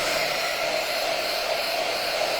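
A hair dryer blows steadily and loudly on a painted rustic snowman craft piece, a continuous close whooshing hum with no talk.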